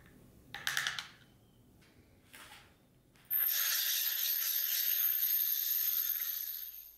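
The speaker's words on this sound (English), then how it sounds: "Stir the coffee a little bit so that there is no dry coffee floating on top" Coffee grounds are stirred into cold water in a French press, giving a few soft scraping rubs, and then a loud, steady high-pitched hiss takes over and holds to the end.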